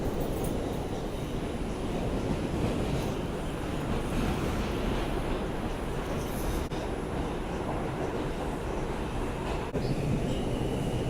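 A New York subway train running, giving a loud, steady rumble and rattle throughout, with a couple of brief clanks partway through.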